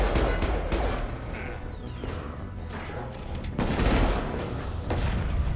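Rapid gunfire and crashing impacts from a firefight in the video game Mass Effect 2: Legendary Edition, dense and loud throughout with bursts swelling near the middle and end, no talk.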